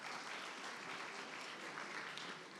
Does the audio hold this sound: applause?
yes